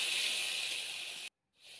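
Tomato, ginger, cardamom, green chilli and bay leaf paste sizzles hard in melted butter for a paneer dish, a loud steady hiss that cuts off abruptly, then resumes more softly after a brief silence.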